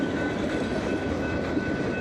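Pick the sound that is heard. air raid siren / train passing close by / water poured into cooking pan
train passing close by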